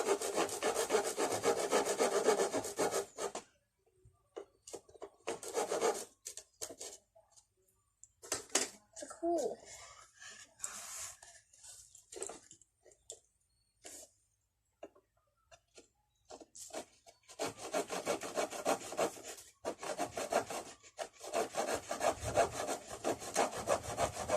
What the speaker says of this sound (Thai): งั้นเดี๋ยวเราไปลองเลื่อยกัน